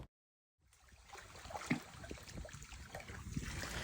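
Water drains out of an emptied hot tub, a soft gurgling trickle that rises from silence into a steady low wash, faint and close, with no voices.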